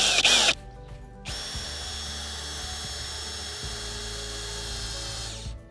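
A Narex ASP 600-2B hammer drill drives a long screw, first with a brief loud burst, then after a pause a steady high motor whine for about four seconds that shifts slightly in pitch before stopping. The sound is close, with no talking.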